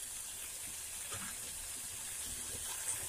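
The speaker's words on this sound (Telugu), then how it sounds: "మనం టమాటా వేసాం కదా అది ఉడకడానికి కొంచెం వాటర్ యాడ్ చేస్తున్నాను" Water is poured into a pan of cooking tomatoes, a steady, soft rushing splash that runs for about three seconds with no talk.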